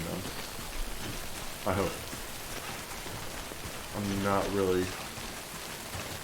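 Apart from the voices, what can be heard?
rain falling in the video game Death Stranding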